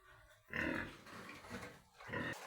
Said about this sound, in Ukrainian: Перегнали ми свинку назад, побачимо, чи спарується.